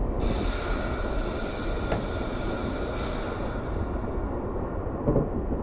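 A Virginia Railway Express commuter train runs in Train Simulator with a constant heavy rumble of wheels and rails. Faint squeals and clicks rise over the steady roar as the train picks up speed.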